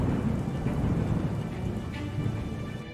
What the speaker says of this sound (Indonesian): kilat bergemuruh, petir menyambar ke seluruh tempat, dan hujan deras mulai turun